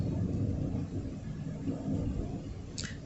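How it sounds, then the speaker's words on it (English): Thunder from a thunderstorm rolls as a continuous low, heavy rumble that swells and eases, with a faint short chirp near the end. "We're having a nice little thunderstorm right now."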